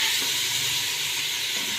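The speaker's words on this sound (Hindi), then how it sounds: "तो इसी तरह हम 3 से 4 मिनट भूनेंगे।" Chicken sizzling steadily in a hot pan while being fried for desi murgh yakhni, a continuous close hiss of frying with no pauses and no voices.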